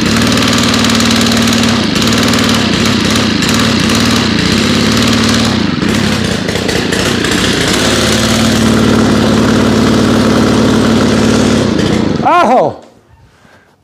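Small lawn care equipment engine, five months stored without fuel stabilizer, running loud and close with a rough, pulsing uneven idle that surges and dips, then cuts off abruptly near the end.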